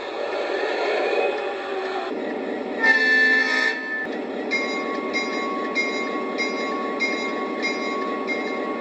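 SD80MAC model locomotive with the Legacy rail sound system, playing steady rolling diesel and rail noise with a brief horn-like toot and a rhythmic clatter, fairly quiet and with no talk.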